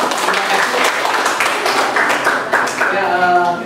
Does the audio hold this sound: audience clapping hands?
yes